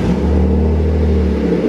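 A BMW E36 drift car fitted with a new exhaust runs close by with a steady, loud, low engine drone, alone with no talking.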